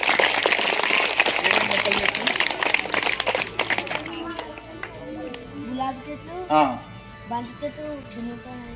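A crowd at a village plantation event claps loudly and steadily, then the applause cuts off partway through and voices talking take over.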